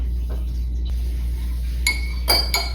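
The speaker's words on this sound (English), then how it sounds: "So see if you can dump some of the red food coloring in there. And then stir it around." A spoon clinks against a drinking glass while red food coloring is stirred into water, a few sharp bright taps near the end after a quiet stretch.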